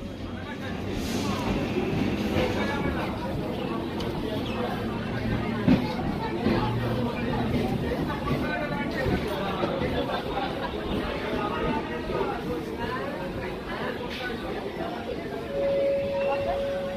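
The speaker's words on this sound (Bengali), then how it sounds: "আর আমাদের ট্রেন নির্ধারিত সময় বনগাঁ স্টেশন ছাড়লো।" A local train pulls out of Bangaon station, its steady rumble and rattle running under a busy hum of passenger chatter and crowd noise throughout.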